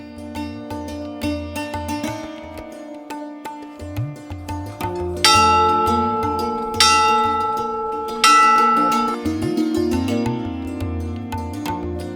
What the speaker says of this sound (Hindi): मंदिर में घंटियां लगी हैं।